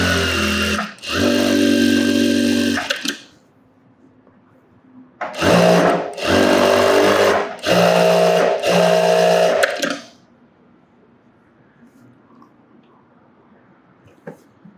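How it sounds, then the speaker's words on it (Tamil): A sewing machine runs a top stitch along a garment sleeve during a tailoring lesson, with a loud two-second burst followed by a longer run of three quick bursts, then near silence. "இப்போ மேலாட்ட ஒரு தையலை போட்டுட்டு அப்படியே ஸ்லீவை ரெடி பண்ண வேண்டியதான்"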